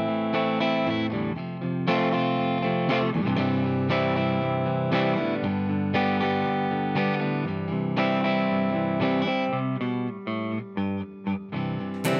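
Guitar playing the intro of a song, heard as a steady strummed chord progression with a distorted, chorus-tinged tone, full and loud throughout, ending in a few choppy muted strums.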